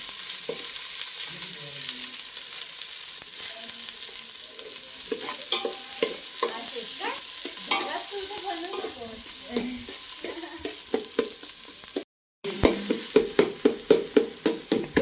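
Curry leaves frying in hot oil for a village egg curry, a steady close sizzle with irregular stirring and scraping, ending in a run of sharp rhythmic taps against the pan.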